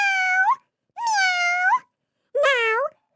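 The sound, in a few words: cats meowing, sound effect in read-aloud story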